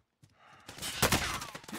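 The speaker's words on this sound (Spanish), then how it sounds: "¡Disparos, disparos!" Rapid bursts of gunfire in Call of Duty: Black Ops Cold War crackle after a brief quiet start, loud and dense, with sharp cracks and a faint whizzing streak through the volley.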